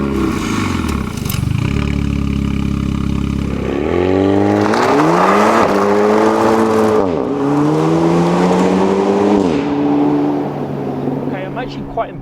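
A 2021 Renault Megane RS Trophy pulls away under hard acceleration from inside the cabin, the engine climbing through a few gear changes, loud and steady throughout.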